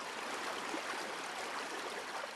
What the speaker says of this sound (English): a laughing brook that started high in the hills